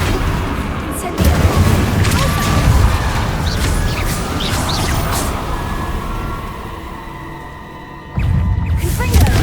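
In the Hogwarts Legacy video game, an Incendio fire spell is cast with a loud, sustained roaring rumble. The blast swells at the start, fades slightly, then surges again near the end.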